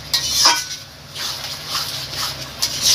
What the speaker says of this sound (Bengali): এটা তেলের মধ্যে ভালোভাবে নেড়ে যেতে হবে।